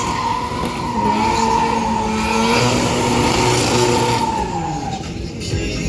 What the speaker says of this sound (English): spins out and smokes up the back wheels